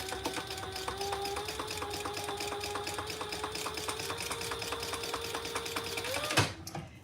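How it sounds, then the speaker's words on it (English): A sewing machine top-stitches a fabric wallet, running steadily with a fast, even mechanical chatter for several seconds before stopping with a brief clunk, close and clear. "And then we'll top stitch the top"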